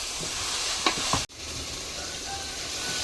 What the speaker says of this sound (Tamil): இஞ்சி பூண்டு கொஞ்சம் நல்லா வதங்கி வரணும்.